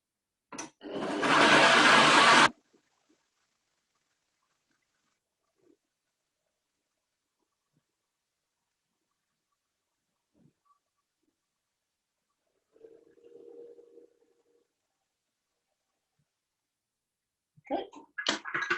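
A kitchen blender whirs loudly for about two seconds while blending chickpeas for hummus, then the room goes quiet apart from a soft mid-clip rumble and a brief renewed burst of noise at the end.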